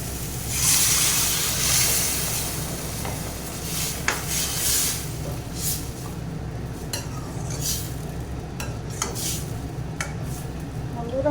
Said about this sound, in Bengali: এখন আমি এখানে জল দিয়ে দেবো।